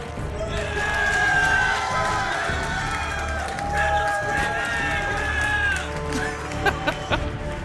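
Live crowd at a StarCraft 2 esports event in Los Angeles cheering and roaring loudly and steadily throughout, a dense wash of voices with whoops rising over it.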